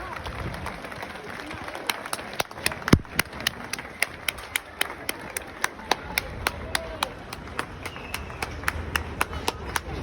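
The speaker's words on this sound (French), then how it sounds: "Il applaudit haut les mains." Hand clapping during a casual trip in Budapest, sharp individual claps ringing out at a fairly regular pace over a noisy, crowded background with some talk.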